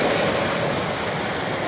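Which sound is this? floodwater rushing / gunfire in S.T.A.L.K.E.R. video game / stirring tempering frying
floodwater rushing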